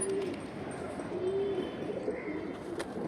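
Running pigeons at a pigeon market give soft, low cooing calls, a few short coos spread over a few seconds against faint background noise.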